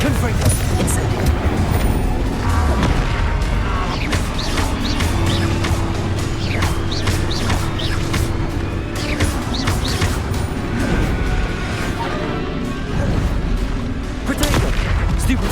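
Fiery spell blasts from Hogwarts Legacy, Confringo and Incendio, burst in a dense run of sharp cracks and booms over a rumbling battle mix, with a voice speaking through part of it.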